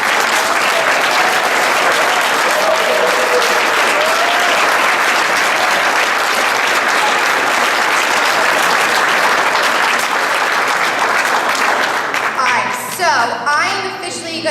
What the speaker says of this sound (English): So make sure you guys give Joe a huge round of applause.